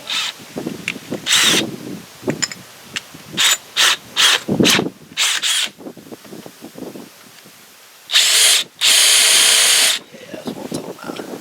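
A power drill boring holes while installing Dana 30 axle sleeves, firing in short loud whirring bursts of about a second each, then two longer sustained runs near the end, with quieter rattling and handling between.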